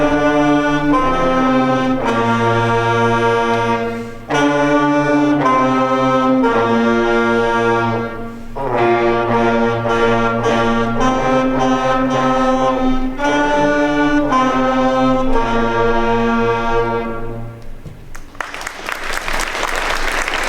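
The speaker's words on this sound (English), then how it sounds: "we learned our first song, which is called Hot Cross Buns" A school band plays Hot Cross Buns on wind instruments, with loud sustained notes in short phrases separated by brief gaps. Applause breaks out at the end.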